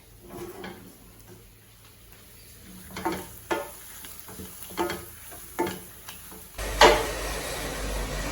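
Ukkali, a traditional jaggery sweet, being stirred in a pan: scraping, shuffling strokes of the spoon at an uneven rhythm, close and moderate, ending in a louder sizzling rush.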